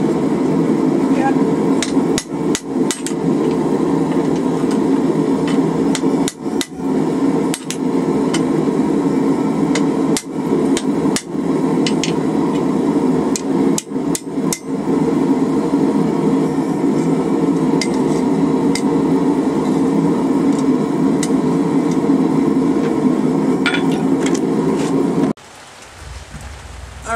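Steel being hammer-forged into a hook for a fleshing knife, with steady rapid hammer blows ringing out close and loud for most of the stretch before stopping abruptly near the end.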